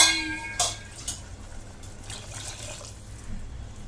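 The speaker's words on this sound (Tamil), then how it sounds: "இப்போ இதில் ஒரு 2 டம்ளர் தண்ணியை நம்ம சேர்க்குறோம்." Water pours steadily into a cooking pan for prawn kurma after a brief metallic clang, a soft, close splashing with no talking.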